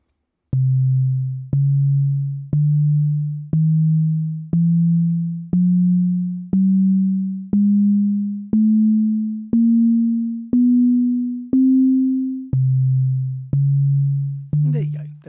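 Sonic Pi synth notes sound one per second, each a plucky tone with a sharp attack and decay, stepping upward by semitones through about a dozen notes before dropping back low, clear and alone.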